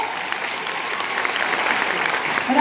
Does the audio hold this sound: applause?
yes